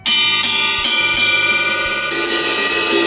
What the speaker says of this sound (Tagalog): 20-inch ride.